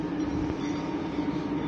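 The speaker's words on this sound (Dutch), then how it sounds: "Nog een dikke trein." A heavy train rolls past close by, a steady loud rumble with a broad roar throughout and no voices.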